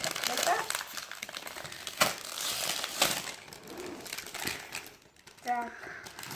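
A plastic bag is opened and handled close by, giving repeated crinkling and crumpling bursts with a few sharper rustles, and a brief voice near the end.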